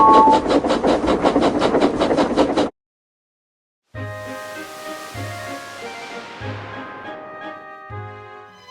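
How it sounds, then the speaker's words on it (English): An animated tank engine chugs along the railway near a scrapyard, with rapid rhythmic chuffing at first, then a short silence and a ringing, echoing rumble with regular low thumps. "Presley and Jimbo were chuffing towards the other side of the island, right near the scrapyard."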